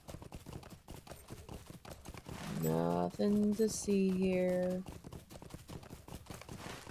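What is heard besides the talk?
horse hooves clip-clopping while riding, in a video game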